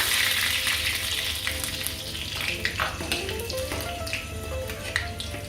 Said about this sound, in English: just the leaf part of it, and I'm going to deep fry them